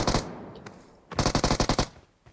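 Rapid bursts of gunfire from a mobile shooter video game, a short volley followed by a longer run of evenly spaced loud shots, then a faint trailing pop.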